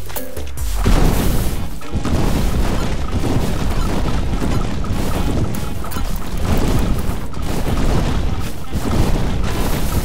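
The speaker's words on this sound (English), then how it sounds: "Now let's destroy Goathenge." Heavy, continuous crashing and booming as stones of Goathenge are smashed apart in Goat Simulator, loud dense impacts and rumbling debris piling up for ten seconds without pause.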